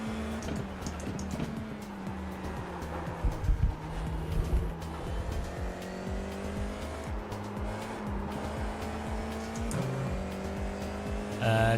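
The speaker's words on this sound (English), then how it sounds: "I need to turn the tyre skid sound up." Tyres squeal and skid from a race car in the driving simulator Assetto Corsa, a sustained engine drone with shifting pitch and a steady scrubbing skid layered over it, loud and close throughout.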